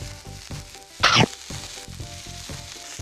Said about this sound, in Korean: 그리고 같이 요거 채끝살까지 같이 구워볼게요.